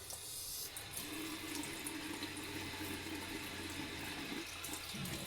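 Steady running water from a tap splashes continuously as cleanser is rinsed off a wrist at a sink, a close, even rush with no voices.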